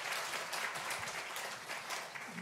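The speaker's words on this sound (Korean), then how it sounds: "우리 하나님께 다시 한번 영광의 박수, 할렐루야 박수 한 번 주십니다" A church congregation at a Sunday worship service applauds steadily, a dense wash of many hands clapping together throughout.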